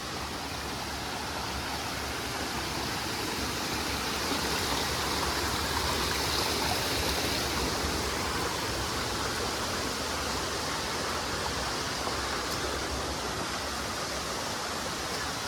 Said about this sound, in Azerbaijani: Şicir şəlaləsi